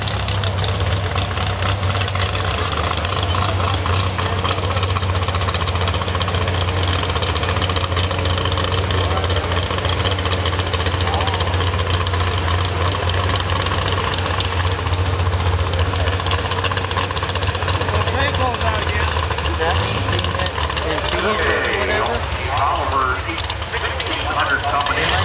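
Oliver 1600 tractor pulling at a tractor pull at an agricultural center, a loud, steady low engine drone with a rising roar near the end, under an announcer's voice.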